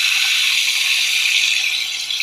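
Tap water runs steadily into a sink while a cut finger is rinsed under it, a continuous close hiss with no talk over it.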